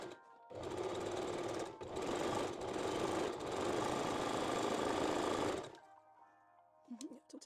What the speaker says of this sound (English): sew both leg openings and also the top edges